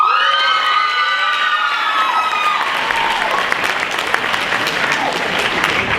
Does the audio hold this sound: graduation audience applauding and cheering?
yes